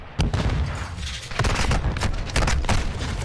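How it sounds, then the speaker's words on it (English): A stun grenade goes off amid a Call of Duty Modern Warfare II firefight, with a rapid string of loud gunshot-like cracks and booms repeating across a few seconds. "Stun grenade out!"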